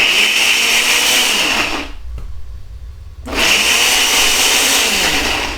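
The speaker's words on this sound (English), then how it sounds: "now we're gonna start to get this blended up" A blender whirs loudly, stops for about a second, then starts up again and runs on at full power.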